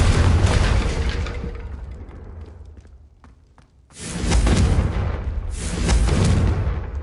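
In the PS5 game Hogwarts Legacy, a Confringo fire spell explodes in loud, deep booms, with a big blast, a short quieter lull, then two more heavy bursts that roll out.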